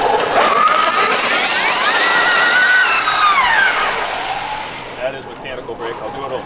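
A Losi 5ive T 2.0 1/5-scale RC truck with a large Hobbywing motor accelerates past with a rising and falling electric whine, loud and near at first, then fading away.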